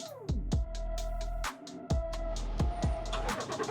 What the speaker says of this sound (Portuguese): quando ela vê o ronco do motor